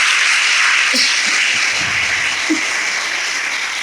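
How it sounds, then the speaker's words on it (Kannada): An audience at a school event applauds students, a broad, even wash of many hands clapping at a distance, sustained and loud with no voices. "ನೀವೆಲ್ಲ ಒಂದು ಚಪ್ಪಾಳೆ ಹಾಕಬೇಕು ಅಂತ ಹೇಳ್ತೇನೆ"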